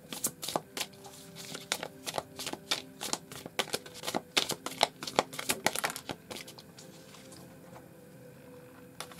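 A deck of tarot cards shuffled by hand: a rapid run of crisp, papery flicks and taps for several seconds, close and moderately quiet, then tapering off into softer handling.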